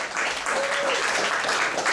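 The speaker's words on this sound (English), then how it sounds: "Give yourself a round of applause." Audience applause at a stand-up comedy show, a steady wash of clapping that fills the moment, fairly close and loud, with a brief tone passing under it.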